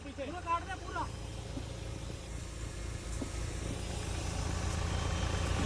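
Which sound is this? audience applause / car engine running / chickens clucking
car engine running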